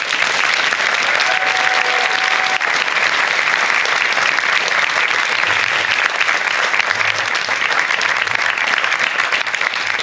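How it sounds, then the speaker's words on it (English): Commencement audience applauds the nurses, a loud, dense, sustained wash of clapping from a large crowd that holds steady and continuous for the full ten seconds. "Can we get a round of applause for our nurses?"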